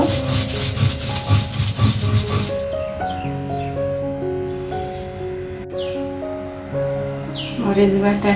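Green chilies are ground by hand on a stone slab (pata), a close, rough rhythmic scraping and rubbing that gives way partway through to softer strokes while bird calls and a voice carry on in the background.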